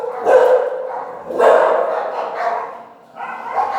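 Several dogs barking outdoors in short, loud, close bursts, sharp yips separated by brief pauses, with no one talking over them.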